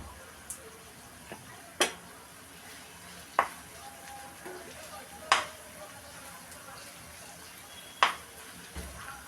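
Egg stirred with vegetables in a pan, a low background of scraping and faint sizzle punctuated by several sharp spatula clicks against the pan at uneven intervals, with speech faintly present.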